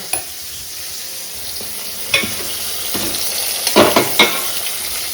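Pointed gourd (potol) frying in a pan, a steady close sizzle with a few louder bursts where the pieces are stirred and turned, no voices.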